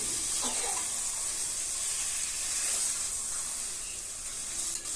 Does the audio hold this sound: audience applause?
no